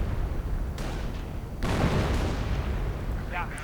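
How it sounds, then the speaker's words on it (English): Heavy artillery fire in a 1v1 WWII strategy game match: deep rumbling booms and blasts that swell over a dense, continuous battlefield roar, with a second, louder burst midway through. "Bit of artillery, doesn't really achieve anything"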